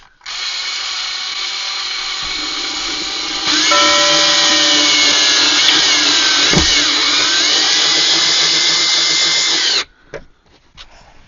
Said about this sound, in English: Now we screw in the hook and the self-tapping wall anchor.